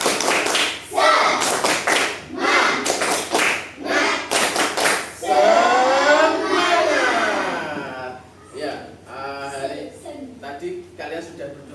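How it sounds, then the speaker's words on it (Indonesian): Primary school class doing a rhythmic spirit clap, bursts of group clapping in a patterned beat alternating with children chanting together, voices and claps close and lively in a classroom. "Tepuk semangat."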